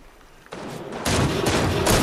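Rapid gunfire in the Fortnite video game starts faint, then builds into loud, dense bursts of shots that grow heavier toward the end.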